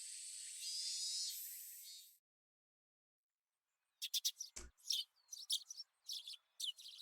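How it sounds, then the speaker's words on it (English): Morning birds chirp in the video game Higurashi, a series of quick, bright tweets in short clusters after a hissing noise stops and a pause of silence. "The chirping birds served as my alarm clock in the year 1958."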